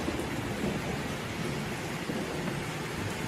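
Rain falls in a steady, dense hiss under an overcast sky with a thunderstorm around, and a low rumble of thunder rolls beneath it, continuous and even throughout with no voices.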